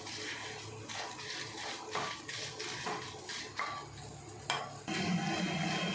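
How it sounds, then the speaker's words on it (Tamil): Thirteen Kashmiri chillies frying in a pan, a soft crackling sizzle with light stirring scrapes and occasional sharp clicks, fairly quiet and close, with no talk. "13 மிளகா போடுறோம். வறுத்து எடுத்துக்கலாம்."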